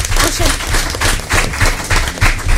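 Studio audience applauding on a French radio game show, a dense steady patter of many hands clapping at close range for the whole stretch, with some voices mixed into the crowd noise.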